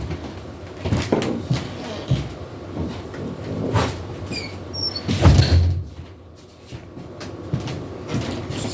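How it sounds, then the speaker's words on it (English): A room door swinging open, with loud clunks and rattling knocks near the mic followed by a quieter stretch. "Sorry about my door came open."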